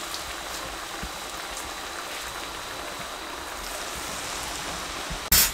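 Lachha pakoras frying in hot oil give a steady, even bubbling sizzle throughout, close and moderately loud, ending with a brief sharp clatter.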